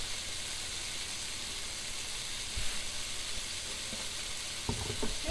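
Radishes sautéing in a pan with garlic, pepper and salt give a steady broadband sizzle throughout, close and even, with a couple of brief clatters of the pan or utensil near the end.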